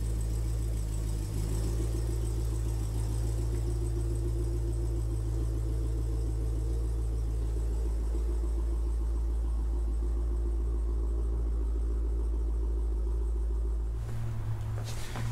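A car idles with a low, steady engine rumble right after rolling off front ramps, the drone continuing evenly throughout, then shifting abruptly near the end.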